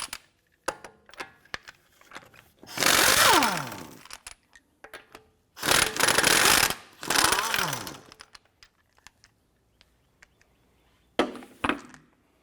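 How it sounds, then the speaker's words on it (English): An impact wrench removes the front wheel lug nuts with a 19mm socket on a 2004-2008 Acura TL, in several loud whirring bursts of one to two seconds, with quiet clicks and handling between them. "Using a 19mm socket, go ahead and remove your lug nuts."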